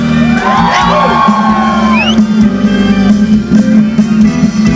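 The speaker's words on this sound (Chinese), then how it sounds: "再给自己一个尖叫声" A concert crowd whoops and screams loudly over pounding music, the shouts rising and blending together.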